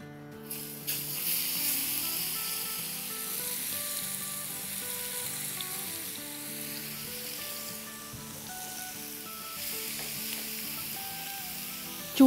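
Goat liver pieces (kaleji) sizzling in about two tablespoons of oil on a large flat tawa, a continuous close crackle lasting the whole time with faint stirring, no voices.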